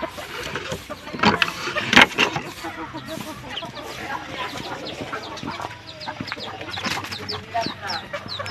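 A trapped female white wild junglefowl (labuyo) clucks repeatedly outdoors, with someone talking throughout and steady rustling and background noise.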